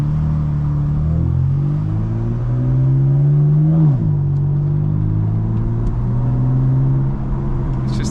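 A 2020 BMW F82 M4 accelerating hard, its engine note climbing in steady loud pitch sweeps with a brief gear-change dip midway, heard up close from inside the car with no talking.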